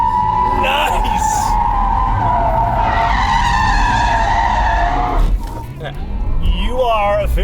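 A 2020 Porsche Taycan electric car drifting on a race track, tyres skidding in a loud sustained squeal that wavers in pitch for several seconds, with a voice talking over it near the end.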